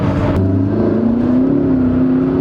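A McLaren MP4-12C's engine droning loud and steady as the rear end slides out, the pitch climbing slightly as revs rise, heard close from inside the car.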